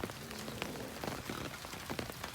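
Heavy rain falling on a farm: a dense, steady patter of drops on surfaces, soft and continuous throughout with scattered sharper hits and no talking.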